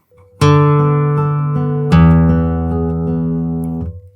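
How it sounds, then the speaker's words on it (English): Acoustic guitar with exaggerated bass, a D bass note ringing under plucked notes before being stopped: two firm attacks with sustained tones that decay and cut off near the end, close and clear, no talking. "I'll exaggerate the bass so you can hear when the D stops."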